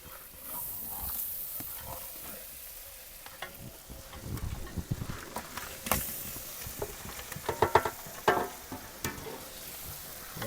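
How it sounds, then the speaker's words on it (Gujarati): Paplet fish added to hot masala gravy in a pan sizzles and spits, quiet at first, then bursts of crackling and stirring scrapes grow louder and more irregular toward the end. "હવે આપણે મચ્છી નાખી દેશું અંદર."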